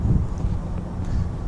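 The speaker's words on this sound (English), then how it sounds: "So we always have like a 10 or 15 mile an hour wind" Steady wind buffets the microphone on a fishing pier over the Severn River, a continuous low rumble and roar without pause.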